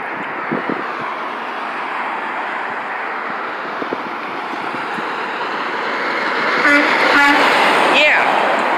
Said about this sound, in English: Hopefully this international will honk too.